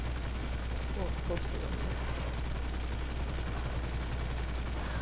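Gunfire from Grand Theft Auto V, a helicopters-versus-bikes match near a runway: dense rapid shots and bursts against a steady engine or rotor drone, with players talking over it.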